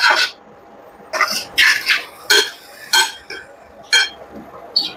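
A metal spoon scrapes and clinks against a pan while chicken chop is stirred with spices, eight or nine short, sharp bursts in an irregular rhythm, close and fairly loud over a quiet background.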